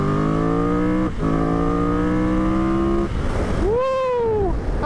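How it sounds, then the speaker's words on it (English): A 2023 Triumph Tiger 1200 Rally Explorer with an 1160cc triple engine pulls hard on the road, its loud, rising engine note cutting briefly for a gear change, then sweeping up sharply again. "But it's a brilliant engine, this new 1160cc triple."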